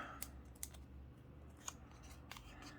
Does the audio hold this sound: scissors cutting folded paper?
yes